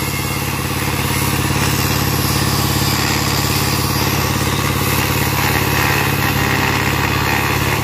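A small engine-driven generator set runs steadily close by, a loud, even idling chug with a low mechanical clatter that stays constant throughout.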